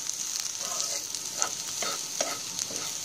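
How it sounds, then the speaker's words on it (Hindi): Chopped capsicum frying lightly in a pan for a sweet corn chilli starter, a steady soft sizzle with a few light stirring scrapes, close and moderately quiet, no voices. "सिर्फ हल्का हल्का इसे फ्राई करेंगे हम, ताकि ये क्रंच बना रहे इनमें"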